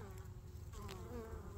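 Robber bees buzz densely around a beehive, a close, continuous insect drone with wavering pitch, faint and without talk.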